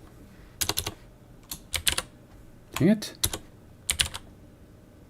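Someone types in short bursts on a computer keyboard while programming, with crisp clustered clicks separated by pauses, and a brief spoken comment partway through.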